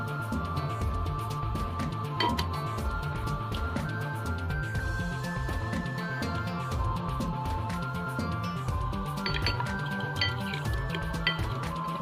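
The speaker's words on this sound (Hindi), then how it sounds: "अब हम इन दोनों चीज़ों को मिक्स कर देंगे और चम्मच की मदद से हम दोनों चीज़ें जो है मिक्स कर देंगे" Spoon clinking against a bowl while mixing cornflour and flour, a steady run of light scraping and tapping strokes through the whole stretch.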